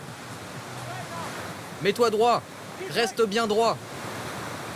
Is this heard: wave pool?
yes